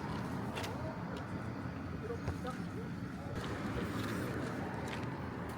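A car idling or rolling nearby on a mountain road, a steady broadband engine and road rumble filling the scene at moderate level with no distinct events.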